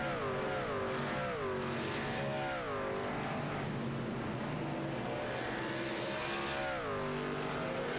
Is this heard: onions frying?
no